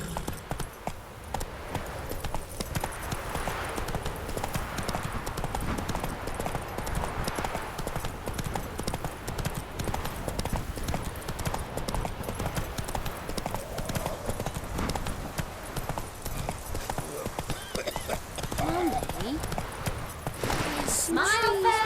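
Horse hooves clip-clopping steadily as a rider travels in The Witcher 3: Hearts of Stone, a continuous rhythmic patter mixed with background music and occasional speech.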